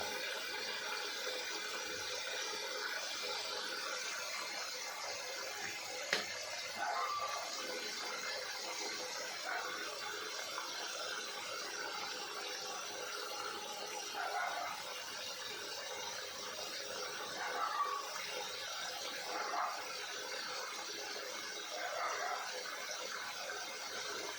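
Water pouring steadily into a crayfish pond, a continuous broadband rush that stays even and moderately loud throughout, with no talking.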